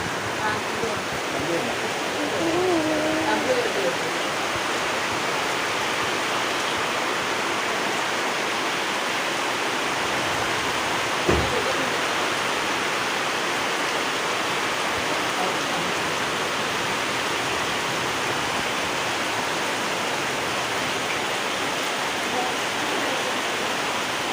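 Heavy rain pours in a steady, even wash of noise, loud and continuous throughout, with one brief sharp knock partway through and a faint voice early on.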